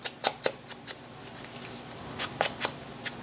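Scissors snipping the white edge off a paper decal, a series of crisp close cuts in quick pairs, a short pause, then another cluster of snips, quiet and with no voices.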